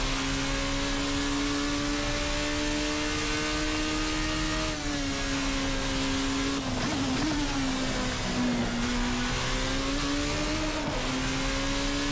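Formula RSS Supreme race car engine in the Assetto Corsa racing game, a sustained high-revving whine that dips and climbs through gear changes around corners, loud and continuous with no talk.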